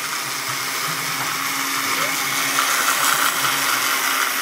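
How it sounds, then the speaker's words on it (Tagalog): A heavy-duty blender crushes young coconut for a buko shake, giving a steady, loud whirring motor drone with a gritty, churning texture that holds constant throughout. "Bali, blend nyo lang po hanggang sa madurog yung buko."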